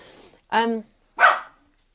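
Two short, sharp dog barks spaced about half a second apart, close and fairly loud, with quiet pauses between them.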